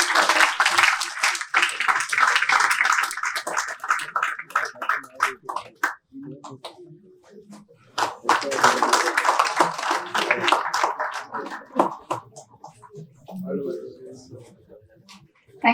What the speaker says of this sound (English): let us welcome once again this MoU signing with a round of applause